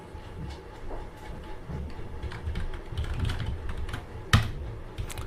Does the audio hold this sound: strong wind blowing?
no